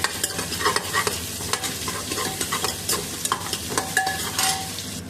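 Green chilies frying in hot oil with onions for mutton kulambu, close crackling sizzle under frequent stirring clinks and scrapes, no talking.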